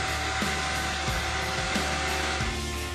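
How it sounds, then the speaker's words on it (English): A vacuum cleaner runs with a homemade cup-and-straw crevice nozzle fitted to its hose, giving a loud, steady motor whine and airflow rush with faint periodic pulses throughout. "put it on the top of your vacuum hose, turn on your vacuum, and now you can get into tight spaces real easy"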